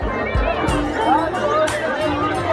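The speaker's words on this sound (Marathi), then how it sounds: "मित्रांनो खूपच गर्दी आहे" Dense crowd chatter and babble fill the air at the Saajgav yatra fair in Khopoli, a busy festival ground, with overlapping voices, occasional louder calls and children nearby.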